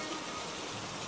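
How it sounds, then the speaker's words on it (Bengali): Heavy, steady rain pours down in a Bengali cartoon storm, a dense continuous hiss that fills the short moment on its own with no talk. "দেখতেই তো পাচ্ছেন বৃষ্টি কমছেই না"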